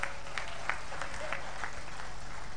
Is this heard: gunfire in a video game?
no